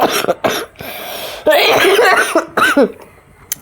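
A person coughs in several sharp, loud bursts close by, with short pauses between them and a longer rough, throaty coughing fit in the middle.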